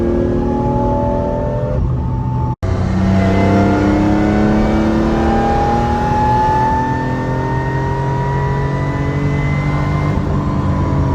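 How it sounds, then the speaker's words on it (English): A BMW M3 GTR-style project car accelerates with a loud, rising gear whine over the engine note, a brief break for a shift, then another long climbing whine, close and continuous, no talking. "You get this really cool gear whine sound, which actually sounds like the M3 GTR."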